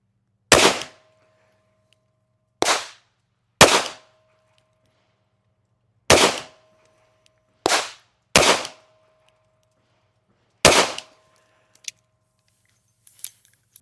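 Seven sharp shots from a Smith & Wesson 642 .38 Special snub-nose revolver, fired at an irregular deliberate pace a second or two apart, each a loud crack with a brief ring, followed by faint clicks near the end.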